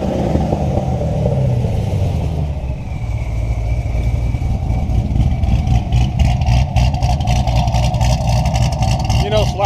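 A supercharged 2009 Corvette with its exhaust opened up rumbles loudly at close range, then revs in quick pulsing bursts toward the end.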